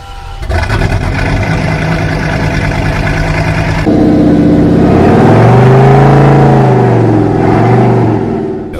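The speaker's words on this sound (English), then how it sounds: "the most raw version of that engine, we would say, comes from the Chiron Super Sports" A Bugatti Chiron Super Sport's W16 engine roars loud and close, holding a strong steady drone, then surging into a deeper revving growl that rises and falls before easing off.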